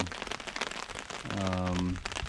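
Steady rain patters on a wilderness campsite in Quetico, a dense, close crackle of drops on surfaces throughout. Midway, a short tonal, voice-like hum briefly rises over the patter.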